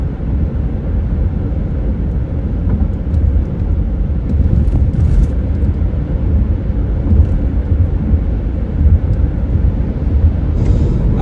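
Steady, loud road rumble from inside a car on a highway in Michigan's Upper Peninsula during a car camping road trip, a continuous low drone of tires and engine with no talking.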